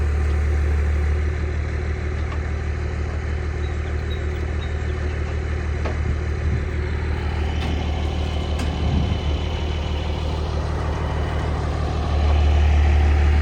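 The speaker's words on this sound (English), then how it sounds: "I leave the truck running so we get battery charging" An old Ford tow truck engine idles steadily, a loud continuous low rumble that holds evenly throughout with a slight rise near the end.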